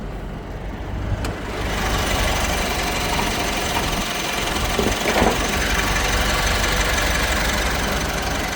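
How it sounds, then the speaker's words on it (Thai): A 2011 Mitsubishi Pajero with power steering idles close by, a steady, even engine rumble that settles in after a brief click and continues without voices. "เครื่องนิ่งๆเลยครับ"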